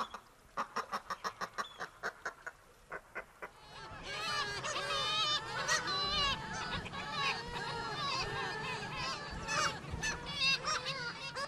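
A dense chorus of gulls and other seabirds calls from the basalt sea cliffs and rock stacks at Arnarstapi, Iceland, layered and continuous. The first few seconds bring a rhythmic series of loud honking calls before the crowded colony noise fills in.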